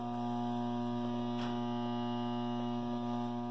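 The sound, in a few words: transformer hum causing radio interference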